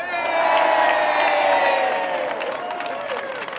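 A large crowd at an outdoor rally against anti-Semitism applauds and cheers, with clapping under rising and falling whoops and shouts that swell early and then slowly fade.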